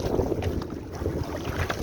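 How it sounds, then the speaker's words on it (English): Strong wind buffets the microphone on open water beside a canoe, a rough, gusty roar with uneven bursts, loud and close, with no talk. "It's too windy"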